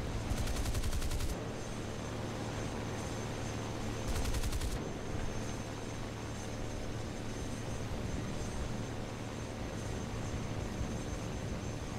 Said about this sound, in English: I just hit him with a few cannon rounds